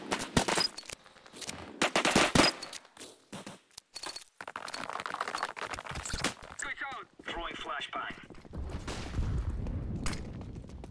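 Rapid gunfire from the video game CS:GO crackles in short bursts and single pops, mixed with other game sounds, while someone talks over much of the action.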